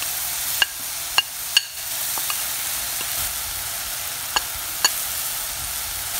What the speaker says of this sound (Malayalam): ഇനി ഇതിലോട്ട് നമ്മൾ ബാക്കിയുള്ള എടുത്തു വച്ചിരിക്കുന്ന പൊടികളെല്ലാം തന്നെ ചേർക്കാൻ പോവുകയാണ്.